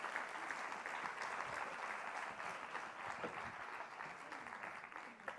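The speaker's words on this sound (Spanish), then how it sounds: "Rovira, Santiago Carbó y José María Bonmatí, un aplauso para ellos, que nos acompañen en el escenario." An audience at a retail business conference panel breaks into sustained applause, a dense and even clapping that carries through the whole stretch without pausing.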